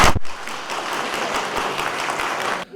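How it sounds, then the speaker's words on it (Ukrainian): Wild applause erupts from the audience at a city council meeting in Sumy, a dense, loud, sustained clapping that starts almost at once and holds steady before cutting off abruptly. "І одразу зриває шалені оплески."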